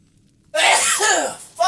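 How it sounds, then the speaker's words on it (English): A single sharp, loud sneeze from a nearby man bursts out of silence, followed by a brief trailing exhale. "Just randomly sneeze and it fucking pisses me off!"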